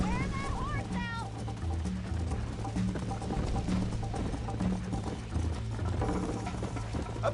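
Galloping horse hooves in a Red Dead–style western video game, a steady clip-clop rhythm running throughout beneath continuous game music and voices.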